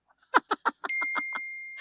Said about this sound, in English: Every time a bell rings.